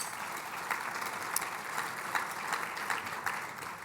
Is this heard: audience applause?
yes